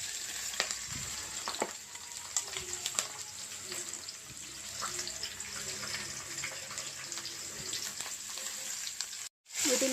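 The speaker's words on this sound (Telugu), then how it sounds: "ముందుగా మనం తరుక్కున్న ఆనియన్స్ వేసుకుందామండి వీటిలోకి" Chopped onions and tomatoes fry in a pan for a curry, a continuous close sizzle with scattered crackles and stirring clinks, faint background voice, then a brief cut near the end.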